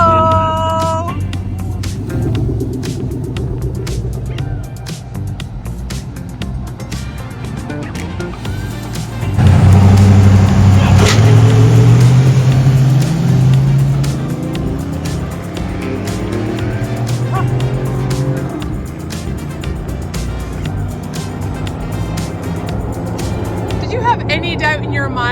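A race car engine roars and whines through gear changes, loud and close, with tires squealing at moments and excited voices talking over it.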